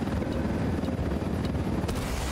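Steady, loud helicopter rotor drone from the video game Ghost Recon Wildlands, a continuous low thrumming wash with no talking over it.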